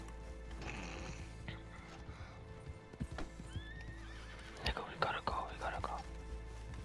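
A horse in Red Dead Redemption 2 clip-clops in uneven hoofbeats and lets out a sharp whinny near the end, with soft low voices talking quietly underneath.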